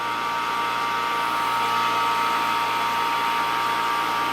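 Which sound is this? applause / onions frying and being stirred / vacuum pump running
vacuum pump running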